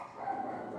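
A pack of dogs barks and yips in a short, muffled burst, heard faintly in the background of a room.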